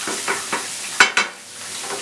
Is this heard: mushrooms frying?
yes